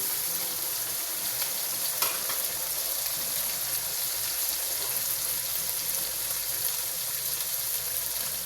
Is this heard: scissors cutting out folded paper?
no